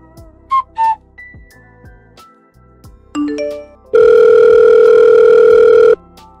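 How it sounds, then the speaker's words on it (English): A phone ringing with a call tone: short electronic beeps, a rising tone sequence, then a loud steady tone held for about two seconds, heard close and alone. "Why don't you pick up your phone? I've called you so many times, but you never answer."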